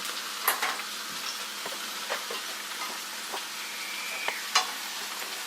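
Potatoes sizzle steadily in a pan, with scattered clicks and scrapes of a utensil stirring them now and then.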